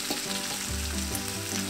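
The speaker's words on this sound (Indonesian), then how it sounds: "Aku memasukkan si lapcyong atau sosis babinya." Chinese pork sausage sizzles and crackles steadily in hot oil with chili in a pan while fried rice is cooked, with a close, continuous frying hiss and some stirring and no talk.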